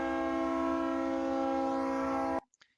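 A loud, steady multi-tone train horn blares for over two seconds as it passes the recording point, then cuts off abruptly, leaving a couple of faint clicks.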